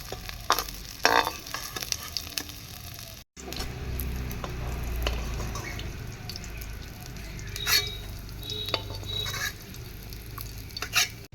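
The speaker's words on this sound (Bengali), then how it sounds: "গুগুলি ভেজে নিলাম হালকা করে" Guguli snails fry lightly in a pan for a spicy Santali-style cabbage dish, giving a steady close sizzle broken by a brief gap, with scattered scrapes and stirring clinks throughout and no voices.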